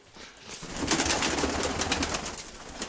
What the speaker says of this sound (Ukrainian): А ну голубята ще сидять.